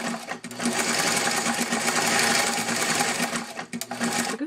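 A vintage Singer straight stitch sewing machine fitted with a zigzag attachment runs in a steady, loud mechanical clatter, pausing briefly near the start and again near the end.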